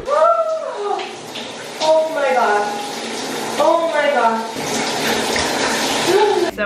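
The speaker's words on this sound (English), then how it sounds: "Put the shower all the way on cold and try to get in" Shower water running full on cold pours steadily throughout, with a person gasping and exclaiming loudly over the spray.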